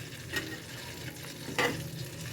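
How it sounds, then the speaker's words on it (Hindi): Chicken frying in a pan on a home kitchen stove, a steady close sizzle with two sharper bursts of crackling as the pieces are stirred or turned, no voices. "चिकन जो है वो मेरे ख्याल है फ्राई कर रही है"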